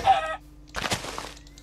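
A chicken in the video game Minecraft gives a short burst of clucking, followed by more chatter-like clucks after a brief pause, close and fairly loud, with no talking.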